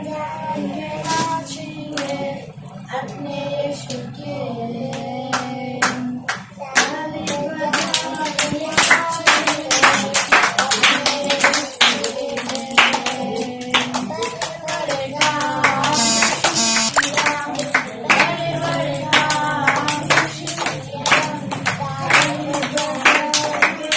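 A group of Sunday school children claps along to a song, rhythmic and loud, steady hand claps running over singing music for most of the stretch.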